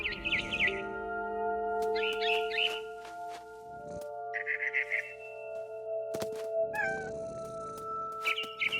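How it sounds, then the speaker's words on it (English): Chirping barn swallow calls from What Remains of Edith Finch, several short bursts of bright tweets repeating every second or two over a steady ambient game drone, fairly close and clear. "Then I heard chirping outside my window. It was a barn swallow going back to her nest."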